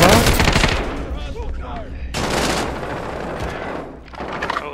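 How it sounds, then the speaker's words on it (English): Rapid bursts of automatic gunfire in a video game firefight, loud and close, with heavy volleys of shots and brief lulls between them. "I just wanted to see if you guys could, like, hear the bullets"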